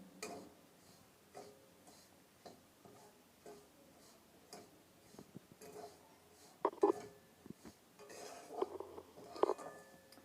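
Semolina poured over ghee is stirred in a kadai with a spoon, giving a steady series of light ticking scrapes and taps against the pan, close and fairly quiet with no voices.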